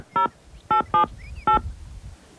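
Four short touch-tone telephone beeps are dialed in an uneven rhythm, clear and close, with a faint room background between them and no voices.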